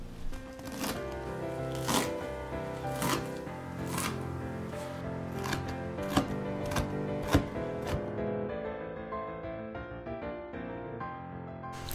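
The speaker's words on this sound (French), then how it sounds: "On commence par couper grossièrement la coriandre." Coriander being roughly chopped with a knife on a board, a series of sharp, irregular cuts over the first eight seconds with steady background sound throughout and no talk.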